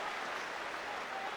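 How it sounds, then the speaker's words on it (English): Enthusiastic crowd applause at a FIBA Asia Cup 2013 basketball game between the Philippines and Chinese Taipei, a steady, dense clapping roar filling the whole moment without pause. "Did you hear the crowd?"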